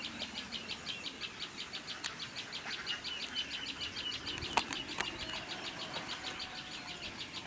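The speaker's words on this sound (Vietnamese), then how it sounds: "chim mẹ vẫn kêu bảo vệ con rất ác này anh em này" Rapid, evenly repeated high calls from a mother Asian koel guarding its chick ring out steadily throughout, set against a low rumbling background with a few brief knocks.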